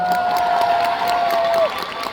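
Concert audience at a Seoul show applauding and cheering, a dense steady wash of clapping with a brief whistle-like tone over it, loud and close, easing off toward the end.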